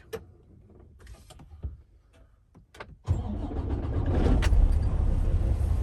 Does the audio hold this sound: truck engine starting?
yes